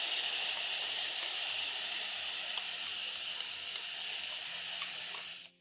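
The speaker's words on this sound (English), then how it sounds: "When ready, you're going to drain your rice and add in the pan." Drained, soaked basmati rice hitting a hot pan of spices gives off a steady, loud sizzle and hiss that carries evenly for several seconds, then cuts off abruptly near the end, with no voices.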